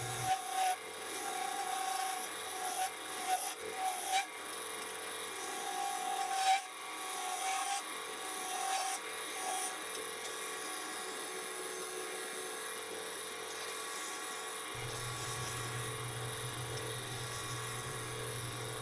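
A woodturning lathe cuts Hububalli wood with push and pull cuts that throw off shavings, giving a steady, close rasping and scraping hum that runs continuously throughout with no talking.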